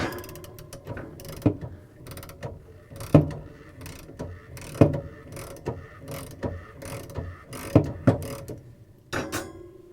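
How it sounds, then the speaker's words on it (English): A washing machine motor coupler on a Whirlpool, KitchenAid or Maytag motor being spun by hand to break it free, heard as repeated rattling, ratcheting mechanical clicks and knocks in uneven bursts, close and fairly loud, with no talking. "try to spin this fast enough to break the coupler free"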